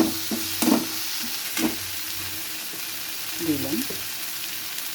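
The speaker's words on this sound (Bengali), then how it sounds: "এবার মশলাটাকে ভালো করে কষাবো।" Spice masala of turmeric, cumin and coriander powder fries in a pan for an egg curry with cashews, a steady crackling sizzle with occasional stirring scrapes. A voice speaks briefly over it.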